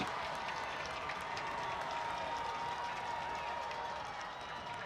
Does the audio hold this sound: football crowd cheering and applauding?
yes